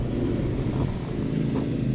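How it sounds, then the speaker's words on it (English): A car approaching on a road, heard as a continuous low rumble at moderate loudness with no pauses. "there's a car coming"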